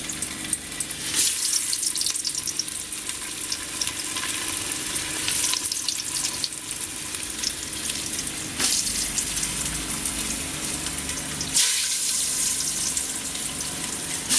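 Potato pieces fry in smoking-hot mustard oil with a steady, dense hiss and crackle that stays fairly constant at close range, broken by a few brief shifts in texture.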